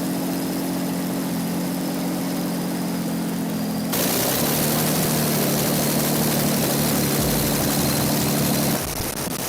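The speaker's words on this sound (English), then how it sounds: "Rolls-Royce Kestrel, the step before Merlin enters the stage." A vintage Rolls-Royce Kestrel aircraft engine runs with a steady droning roar that steps up abruptly to a louder, harsher pitch partway through, then holds until it cuts back near the end.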